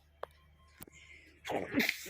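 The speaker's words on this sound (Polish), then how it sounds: "Kichawa mi poszła" A single loud, close human sneeze bursts out near the end after a quiet stretch with a few faint clicks.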